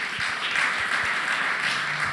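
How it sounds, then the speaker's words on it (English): Audience at a forum on the Freedman's Bank breaks into steady applause, a continuous wash of many hands clapping at moderate distance, fairly soft overall. "I think that deserves a round of applause."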